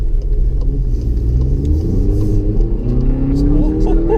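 A Volkswagen GTI hatchback accelerates hard, its engine note climbing steadily in pitch through the run, loud and heard from inside the car while a person talks over it.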